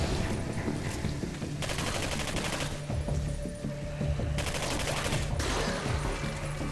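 Bursts of rapid gunfire from a weapon in the video game Singularity, two loud sustained volleys separated by short gaps over steady background noise, with no talk.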